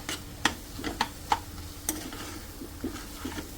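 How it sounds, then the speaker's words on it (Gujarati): Spices roasting for veg biryani, crackling and popping in a pan with sharp scattered ticks and sizzles over a quiet background, no talk. "હવે આને થોડી વાર શેકાવા દઈશું બધા મસાલાને"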